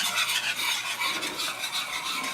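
A utensil scrapes and stirs gravy in a skillet for country fried steak, a steady close rasping swish with soft sizzling beneath, no voices.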